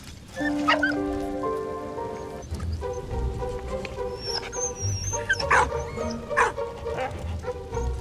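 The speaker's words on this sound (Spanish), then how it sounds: "Buen perro." A dog barks in the World War I video game Valiant Hearts, a few sharp yips near the start and later amid game music and rain-like ambience, fairly close and moderately loud.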